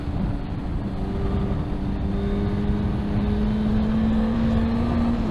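A Suzuki GSX-S1000 four-cylinder engine hums steadily while riding, its tone slowly rising as it pulls harder, with wind rush loud around it.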